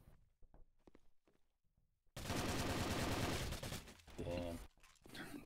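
A sustained burst of rapid MX weapon fire erupts midway through a 2v2 video game skirmish, loud and dense, broken by short pauses and another volley, following quieter thuds and steps at the start.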